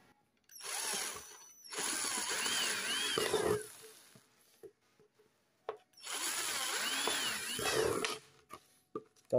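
A power drill bores holes in the bottom of a plastic bottle in two close bursts of about three seconds each, with a whining motor that rises and falls as the bit cuts, separated by quiet handling.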